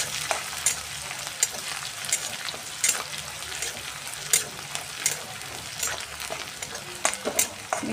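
Onion frying in a kadhai for misal pav, a steady broadband sizzle with regular sharp scraping strokes of a stirring spoon every second or so, close and alone.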